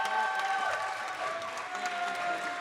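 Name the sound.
wedding guests applauding the best man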